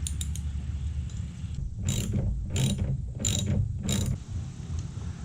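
Ratchet wrench loosening the nut on a hood strut bracket of a 2018 Ford Mustang GT: four close, loud bursts of rapid pawl clicking with short pauses between them, over a low steady background hum.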